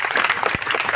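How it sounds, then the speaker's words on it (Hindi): A gathered crowd claps together in welcome at a community event, with dense, continuous applause filling the whole moment at close range. "हम लोग एक साथ ताली बजा के स्वागत करें इनका"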